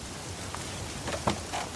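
Steady patter of rain with a few louder drops hitting a surface, fairly quiet and continuous, in the video game Corto Maltese: Les Celtiques.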